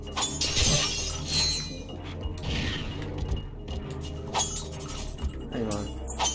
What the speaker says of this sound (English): I heard broken glass.